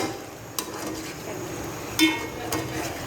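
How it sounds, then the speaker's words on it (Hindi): Minced meat keema with spices frying in a pan for palak keema, a soft steady sizzle with a few clinks of a spoon scraping and stirring against the pan, close and without talk. "यहाँ मैंने अच्छे से कीमे की भुनाई कर दी।"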